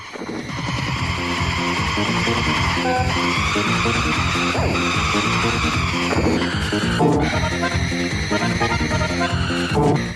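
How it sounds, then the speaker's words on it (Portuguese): Racing cars in the F-Zero video game, a loud, continuous electronic engine whine with shifting pitch and tire-squeal sweeps, layered over game music and running without a break. "os carros fazem misérias na corrida"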